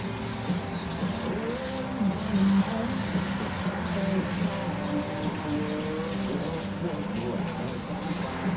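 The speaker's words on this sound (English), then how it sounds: "This spray paint just covers excellent." Spray can painting N scale model parts, a steady broadband hiss of aerosol paint in short bursts over a continuous background, close and fairly loud.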